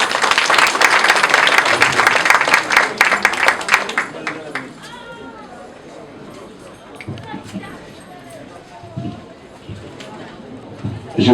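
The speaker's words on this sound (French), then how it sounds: "que je vous prie d'applaudir une fois de plus" Wedding guests at an official civil ceremony in a Paris town hall burst into loud, dense applause that fades after about four seconds, leaving scattered claps under a murmur of voices and someone speaking.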